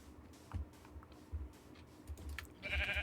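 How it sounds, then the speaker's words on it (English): A sheep in Minecraft Beta 1.7.3 bleats once near the end, a short clear call over low thumping game sounds and soft ticking. "Let's go smack this sheep, because sheep are always good to smack."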